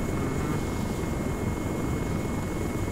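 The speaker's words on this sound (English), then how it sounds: "There goes the jet." A jet aircraft passing in the ARMA 3 video game, heard as a steady loud engine roar that holds for a few seconds with no talk over it.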